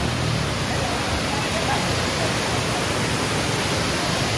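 A waterfall rushes in a steady, loud broadband roar that holds constant and fills the whole scene.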